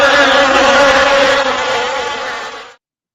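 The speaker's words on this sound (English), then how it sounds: "I put bees in our sound effect" A dense, loud bee swarm sound effect buzzes steadily on its own with no voices, then stops abruptly before the end.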